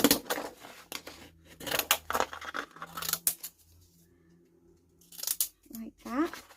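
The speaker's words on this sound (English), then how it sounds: "Now I've also got some brown card I'm going to cut around as well" Scissors snipping through brown card in bursts of crisp, close cuts with pauses between them, some light paper handling, quiet overall.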